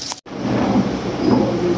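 Steady monsoon rain pours down close by in a dense, continuous hiss, with a short break near the start and no talking.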